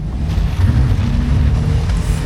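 A Suzuki Super Carry kei truck churns through mud off-road, its engine droning steadily and loudly with tyres spinning, a continuous rumbling roar that holds throughout with no talk.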